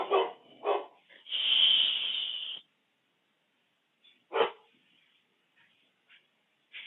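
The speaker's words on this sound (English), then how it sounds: "we got somebody making lots of noise outside, and our dog is letting us know" A house dog barks at noise outside: a few sharp close barks, one drawn-out howling bark, then scattered softer yips and gruff woofs separated by quiet gaps.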